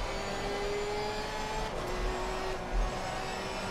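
Race car engine revving in Assetto Corsa Competizione, a steady droning whine holding pitch with brief shifts, close and continuous under faint background whir, with no talk.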